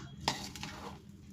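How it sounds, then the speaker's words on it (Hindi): A spoon stirs ground coriander, garam masala and other spices into mashed potato filling for samosas, giving one quick scrape and clatter against the bowl before a soft, faint rustle. "इन तमाम को डालकर अच्छी तरह से मिक्स कर लेंगे।"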